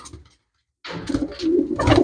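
A pigeon coos close by in a short, throaty phrase that begins after a brief silence and swells toward the end.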